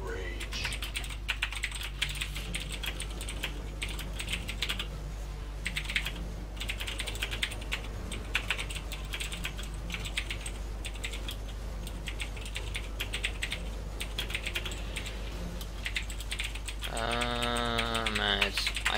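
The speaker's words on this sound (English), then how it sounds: "I can't speak while typing, so I just gave up on that" Fast typing on a computer keyboard during a StarCraft-style strategy game, continuous clicky keystrokes under game sounds, with a brief tonal chime near the end.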